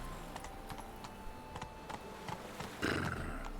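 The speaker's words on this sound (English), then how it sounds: "Run, Roach." Horse hooves clip-clopping in The Witcher 3 video game, a quiet series of evenly spaced thuds at a running gait, faint and somewhat distant, ending in a louder burst of noise.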